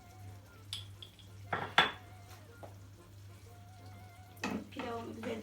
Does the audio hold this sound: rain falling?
no